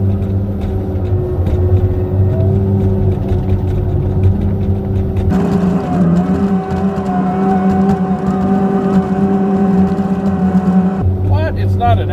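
A Timbco forestry machine's engine runs steadily at close range with a deep, harmonic drone that shifts pitch as the load changes, while clearing trees and stumps on a cold day.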